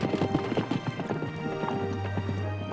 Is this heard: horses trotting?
yes